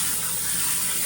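Water runs from a sink tap to rinse chhena held in a cheesecloth, a short, steady, close gushing stream heard alone.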